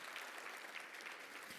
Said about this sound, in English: So please give a round of applause for these 3 fantastic people.